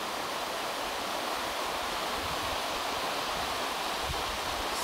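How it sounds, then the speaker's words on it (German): An artificial waterfall on the Bacherlochbach stream near Einödsbach, heard from a distance as a steady, broad rush of falling water that never lets up. "Das ist da hinten der Wasserfall."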